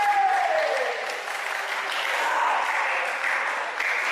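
A wrestling match crowd cheers and applauds steadily throughout, a dense, continuous roar of clapping and shouting from a large audience.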